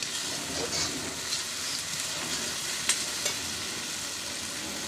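Meat goes into hot oil in a pan and fries with a steady, moderately loud sizzle and crackle, with a few sharper spits and pops rising over it.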